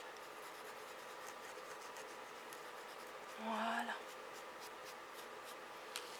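Quiet scratchy strokes of a pen drawing lines on wood, repeated in short bursts, with a brief spoken word in the middle.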